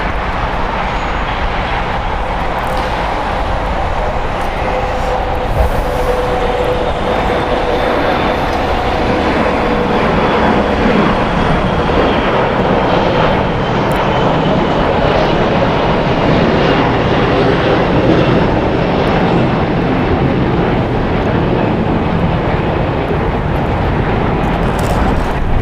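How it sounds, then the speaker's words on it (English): Korean Air Airbus A380 taxiing at LAX, a steady broadband jet engine rumble and whine at close range, holding at a constant loud level throughout with no talk. "the Korean A380, the first one that touched down here. Now, starting its taxi"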